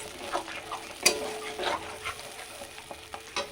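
Pabda fish being stir-fried in mustard paste in a pan, a soft continuous sizzle with scraping spatula strokes and occasional sharper crackles, close by with no talk.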